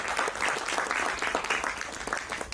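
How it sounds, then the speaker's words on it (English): An audience at a Bharatanatyam arangetram recital gives a young dancer a loud, dense round of applause, with continuous clapping that holds steady throughout. "giving the young dancer a huge round of applause"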